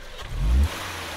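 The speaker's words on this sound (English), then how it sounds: "The gas engine always powers on when starting up." The gas engine of a 2014 Subaru XV Crosstrek Hybrid fires up with a short, deep rumbling surge, then settles into a steady low hum, close and fairly loud with no talking.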